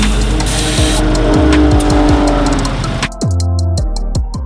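A race car drives laps at Buttonwillow track, loud and close, with repeated engine revs rising and falling between shifts and tires squealing through corners, then sharp downshifts and blips near the end.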